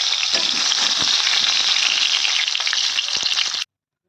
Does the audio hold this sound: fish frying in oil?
yes